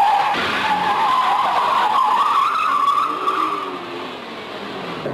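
Cars racing in a film chase scene at unreasonable speed, with loud, close tyre squeal and skidding sweeping across the whole stretch over a steady engine roar that eases slightly toward the end.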